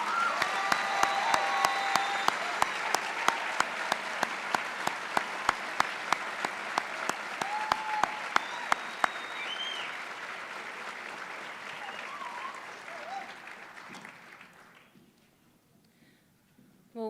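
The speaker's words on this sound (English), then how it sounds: "Let's hear a round of applause for all the students." Applause from the audience honoring students at a medical school white coat ceremony, a broad wash of clapping in a large hall with sharp individual claps on top, slowly thinning and trailing off into quiet near the end.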